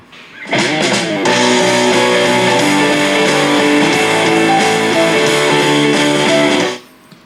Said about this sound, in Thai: อันนี้จะเป็นเสียงจาก JBL Go นะครับ